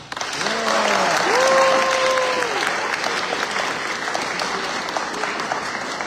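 Audience applause at a Vietnamese student association spring show rings out as steady, dense clapping from a crowd, with a few whistles rising above it near the start.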